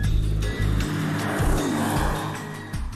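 Audi R8 Performance RWD with its mid-rear Lamborghini-derived 5.2-litre V10, loud and close, roaring steadily with short pulsing surges and a faint squeal.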